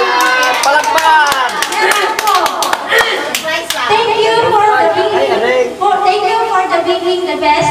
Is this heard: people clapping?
yes